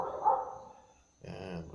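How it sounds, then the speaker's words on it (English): A dog barks nearby during a family gathering celebrating a great-grandmother's 88th birthday, giving a short bark followed by a louder, longer throaty vocalization after a pause. "Oh, shut up, dog."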